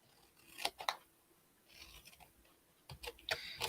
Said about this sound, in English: this is why I love my snips so much, because they just go up these to the point so perfectly